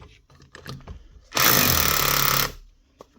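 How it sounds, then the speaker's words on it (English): A Makita rotary hammer drill fires up for about a second of loud, rapid hammering, framed by quieter handling clicks and clunks before and after. "Hammer's working, no problem there."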